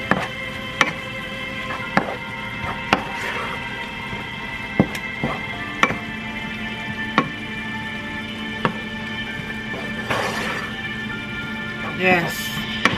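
Parsley stirred into sizzling shrimp scampi sauce in a pan, a steady frying hiss with sharp periodic clacks of a utensil against the pan, close and fairly loud.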